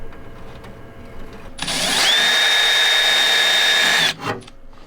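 A power drill with a step drill bit drills through a Jeep TJ body for fender flares, whirring at high pitch for about two seconds, spinning up then cutting off, with a brief rattle afterward.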